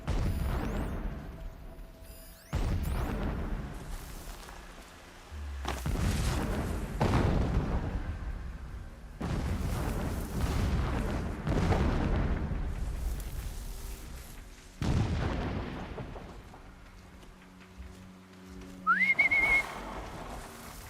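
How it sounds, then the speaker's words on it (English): Distant explosions rumble in the Horizon Zero Dawn video game, several heavy low booms arriving in separate bursts every few seconds, with a brief whistling tone near the end. "Explosions in the distance."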